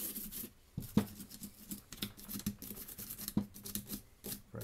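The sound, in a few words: brushing grease out of a Walther P22 pistol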